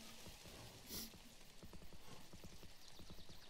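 A horse's hooves clip-clop in the video game Kingdom, a steady rhythmic trot of close, clear hoofbeats with a brief whinny-like burst near the start and soft ambient game sound beneath.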